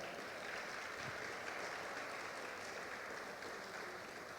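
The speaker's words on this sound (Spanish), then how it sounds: "dale un fuerte aplauso" A church congregation at a Spanish-language sermon breaks into applause, a steady, fairly quiet wash of many hands clapping that fills the whole moment with no voices over it.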